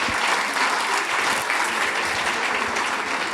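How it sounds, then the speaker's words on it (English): Loud, dense audience applause in a lecture hall after a conversation with two professors, many hands clapping steadily and close together with no voices above it. "So if you would join me in giving applause"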